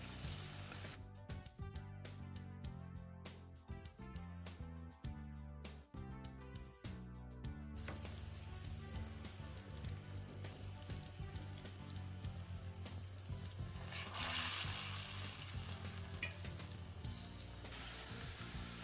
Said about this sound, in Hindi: ये बहुत पकौड़े मैंने डाल दिए हैं पैन में पकने के लिए।